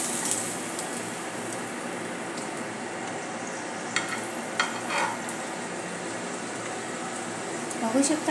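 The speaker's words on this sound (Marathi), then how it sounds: "अशा प्रकारे आपण सर्व बाजूने भाजून घ्यायची आहे।" A breakfast snack for a school lunch box roasts in a pan, turned to brown on all sides, giving a soft, steady sizzle with a few light scraping and stirring clicks, close and moderate in level.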